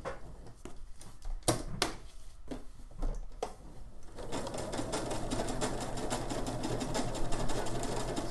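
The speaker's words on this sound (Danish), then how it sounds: "Men I kan godt høre, at min symaskine den prutter lidt." A slightly sputtering domestic sewing machine stitches a pocket, starting with scattered clicks and short bursts, then settling into a steady, fairly loud continuous whir of rapid stitching, with no talking.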